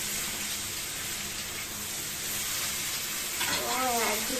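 Potatoes frying in a pan give a steady, close sizzle that holds evenly throughout, with a voice rising briefly over it near the end.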